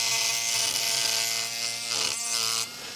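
A small rotary USB drill fitted with a sanding drum hums with a steady high-pitched whine as it chamfers the front edge of a wooden 1/16 scale Sopwith Camel model.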